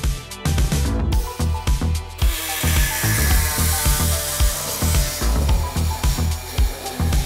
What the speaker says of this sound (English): why don't you get your air hacksaw out?